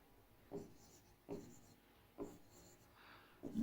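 Pen or chalk strokes from writing a formula during a physics lesson, four short scratchy strokes at a steady pace, close and quiet against a faint room hum, with no talking.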